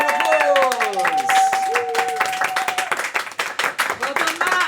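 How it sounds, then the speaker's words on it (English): Audience clapping at a live fan-fiction show at Dragonmeet 2023, a tabletop gaming convention, heard as a steady close patter of hands mixed with cheering voices and speech throughout. "Give all yourselves a round of applause."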